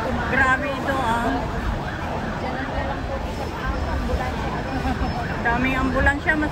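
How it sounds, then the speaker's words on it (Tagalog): Ambulance sirens wail steadily in the distance at a big fire in Central, Hong Kong, beneath nearby chatter and crowd noise, their rising and falling tones carrying through. "Daming ambulansya maski doon sa kabila."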